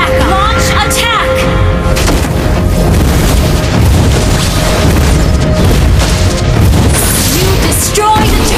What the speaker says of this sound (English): You destroy the turret.